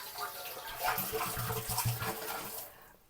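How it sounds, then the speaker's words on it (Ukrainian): Water pours steadily into an autoclave holding jars of canned mackerel, a close gushing, splashing flow that tapers off at the end. "Далі наповнюємо водою, наповнюємо так, щоб вода покривала як мінімум на два пальця самі банки"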